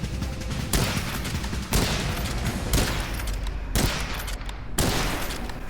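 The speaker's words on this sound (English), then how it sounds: "Five rapid shots and it was all over." Five rapid gunshots in the video game Witchfire, loud sharp cracks spaced about a second apart, each with a short tail, over a steady background and no talk.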